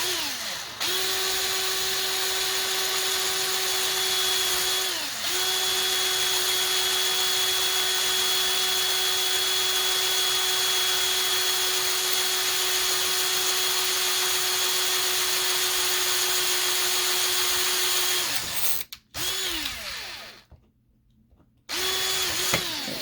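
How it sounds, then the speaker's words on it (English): A small, weak power drill whines steadily for a long stretch, dips briefly near the start, then stops and restarts near the end, while drilling during restoration of a Matchbox Ford Galaxie police car die-cast toy. "This is like a little boy's drill."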